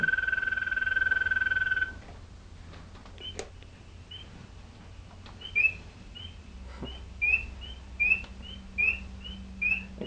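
A steady electronic whistle tone, then a run of short chirping frog calls from an exhibit button repeating at an even pace over faint background hum.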